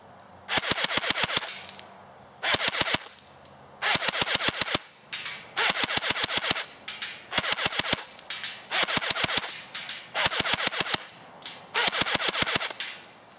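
A JG M4A1 airsoft AEG fitted with an M130 spring fires BBs in about eight rapid bursts, each a fast clattering string of shots separated by short pauses, close and loud.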